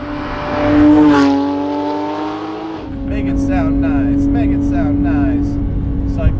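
A modified Porsche 997.1 911 GT3 engine revs hard and climbs in pitch on an open road, then holds at a steady high drone with faint chatter over it, loud and close.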